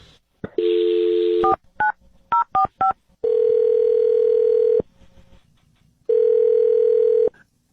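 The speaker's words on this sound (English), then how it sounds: "I'll dial his phone number right now." A telephone dials a number, with a steady dial tone followed by a quick run of separate touch-tone beeps and then longer sustained tones, loud and close with no talking.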